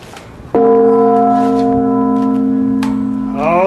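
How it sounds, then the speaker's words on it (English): A single loud strike of a large church bell with a cast iron clapper weighing several hundred pounds, ringing out with a rich sustained tone that slowly fades, heard up close in the bell tower. "The cast iron clapper for this bell is a real monster, weighs several hundred pounds."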